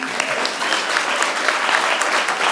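Dense, loud applause from a crowd at a planning and zoning meeting, continuous clapping with no pauses, close and filling the room.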